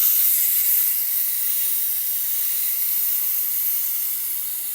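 A knife is ground on a Tormek 320-grit sharpening wheel, giving a steady, even hiss at moderate volume that continues without a break and fades slightly toward the end.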